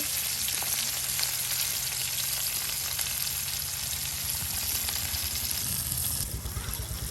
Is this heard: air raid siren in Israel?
no